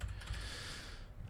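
Someone types on a computer keyboard while coding a game from scratch. The keystrokes come as quick, soft clicks in a brief close-up burst.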